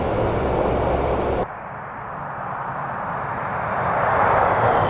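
A C-130 Hercules in the DCS World flight game roars past in a loud, steady drone that cuts off abruptly and gives way to a softer, rising engine hum.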